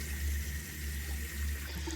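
Warm water running steadily from a tap, a continuous hissing gush that stays fairly even throughout, close by and moderately loud.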